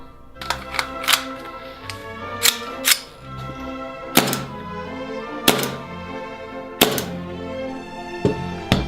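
A Nova Kimber LAPD SWAT Custom II airsoft pistol fires in a series of loud, sharp snaps with metallic rings, some in quick pairs and others spaced out.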